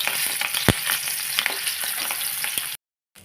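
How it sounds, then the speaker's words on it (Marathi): Green chillies fry in hot oil in a pan, a dense, steady sizzle with crackling pops and a few sharp spits, close and loud, running alone for nearly three seconds before cutting off. "मी आता इथे मिरची तळून घेते साबुदाणे खिचडीसोबत खायला"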